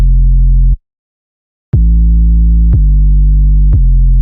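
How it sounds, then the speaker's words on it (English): A simple 808 bass line: one long, deep sustained note, a second of silence, then three fresh 808 notes struck about a second apart, loud and alone with no drums or voices. "Moving on to the bass, we got a simple 808."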